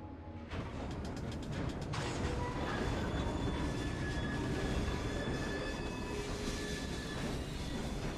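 Train running in Assassin's Creed Syndicate, a loud continuous rolling rumble with rapid clattering wheel beats over the first seconds, then a steady roar with faint metallic squeal and whine, no talking.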